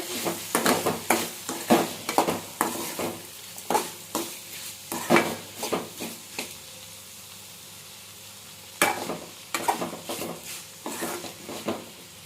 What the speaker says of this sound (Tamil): சேர்த்துட்டு நல்லா கிளறி கொடுத்துட்டு